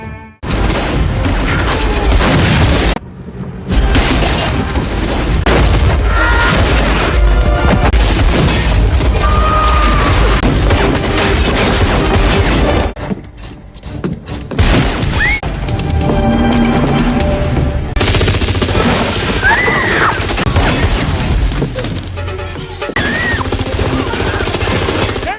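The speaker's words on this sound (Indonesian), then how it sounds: "Dan aksi baku tembak pun kembali terjadi" A film shootout bursts with dense gunfire, booms and crashes. The action stays loud and continuous, broken by a couple of brief lulls, and scattered voices sit under the noise.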